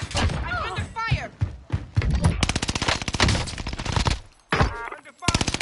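Gunfire in the Call of Duty Warzone video game, with rapid automatic bursts and single loud shots repeating close by throughout, mixed with other game sounds.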